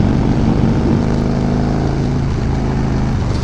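Harley-Davidson Fat Bob 114 motorcycle engine pulling hard under acceleration, a loud, continuous, rumbling roar with steady low drone and wind rush, close and dominant throughout.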